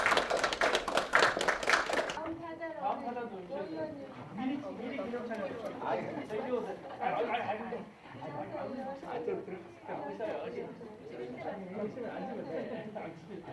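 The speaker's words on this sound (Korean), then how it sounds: "다시 한번 큰 박수로 축하를 보내주시니다" At a Korean Won Buddhist dharma title conferral ceremony, a short burst of crowd applause opens, then people chatter and talk over each other at a moderate level.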